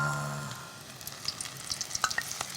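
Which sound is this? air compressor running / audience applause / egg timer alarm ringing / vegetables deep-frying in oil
vegetables deep-frying in oil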